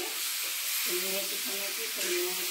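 Chopped onions sizzle in hot oil with salt and turmeric for an Assamese chicken curry, a steady hiss with stirring scrapes and a faint voice in the background.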